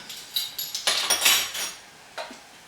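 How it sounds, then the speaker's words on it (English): Utensil clinking and scraping against a pan while garlic and smoked paprika are stirred, a series of quick metallic knocks clustered in the middle, fairly faint and close, with no talk. "Just give it a quick stir to mix it through"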